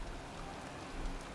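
Heavy rain pours down on a cemetery in the PS3 video game Heavy Rain, a dense, even wash of close, loud rainfall hiss with no voices.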